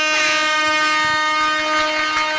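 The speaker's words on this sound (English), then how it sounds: "It's all air horns tonight for Fun Time Shelley." An air horn sounds during a live talk show, a loud sustained blast that holds a steady tone for its whole length, with no talking over it.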